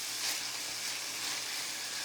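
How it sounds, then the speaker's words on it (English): Chili meat browning in a pan gives off a steady, close sizzle, a bright continuous crackle with nobody speaking. "You can probably hear it sizzle"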